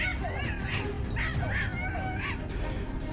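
Hunting dogs yelping and barking in quick, excited bursts during a wild boar hunt, fairly close and repeated across a few seconds over rough outdoor background noise.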